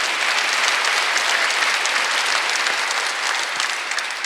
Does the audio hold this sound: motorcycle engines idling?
no